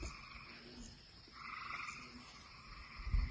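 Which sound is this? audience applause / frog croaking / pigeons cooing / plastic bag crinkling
frog croaking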